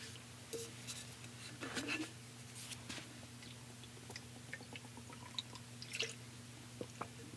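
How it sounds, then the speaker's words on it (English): Coffee poured slowly from a cup into the mouth, heard as soft wet sipping and dripping slurps in a few brief bursts, close and quiet over a steady low hum. "it pours really slow, so it sounds like you're pouring like a gallon of coffee in your mouth"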